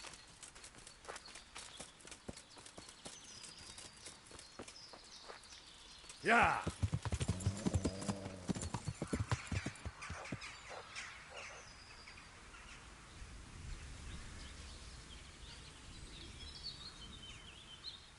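Rhythmic hoofbeats of a horse in the video game Kingdom Come: Deliverance clip-clop steadily at a brisk pace, joined midway by a loud whinny, then fade into quieter trotting; a voice speaks briefly.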